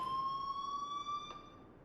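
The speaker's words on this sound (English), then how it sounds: "please turn off that alarm since that's your job." An electronic alarm from the video game Life is Strange rings as a steady, piercing high tone with bright overtones, holding continuously at close range and fading slightly toward the end.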